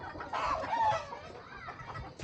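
Backyard chickens in the Philippines cluck in a short, close burst of agitated calls, loud at first and then tapering into softer clucks over faint background noise.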